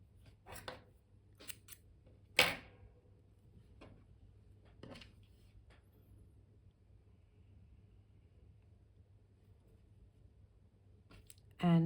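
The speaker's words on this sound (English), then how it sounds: "cut the yarn" Scissors snip through crochet yarn while a mini teddy bear is being made: a handful of crisp, close cuts, with one louder snip among quieter ones and quiet pauses between them.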